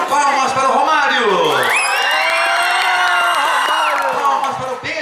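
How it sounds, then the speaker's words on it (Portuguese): A circus crowd at Circo Olímpico in Pingo D'água, Minas Gerais, erupts in loud shouting, whoops and cheers for a contestant in an ugliest-man contest. Voices swell high and close, with some clapping mixed in. "Palmas para o Romário."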